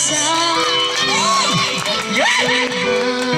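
Studio audience at a noontime variety show cheering, whooping and shouting loudly, with children's shrieks rising above steady applause throughout.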